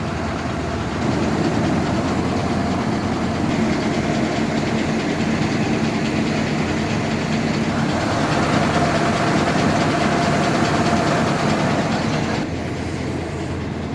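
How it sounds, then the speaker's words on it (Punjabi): A loud, steady engine drone from a large farm machine running continuously nearby, with a low rumbling hum and no voices. "ਮੱਕੀ ਦਾ ਚਾਰ ਪਾਉਣ ਵਾਲੀ ਮਸ਼ੀਨ ਹੈ ਮੱਕੀ ਕਟਰ"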